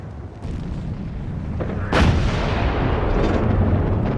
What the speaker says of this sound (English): Then there was another explosion, and another one.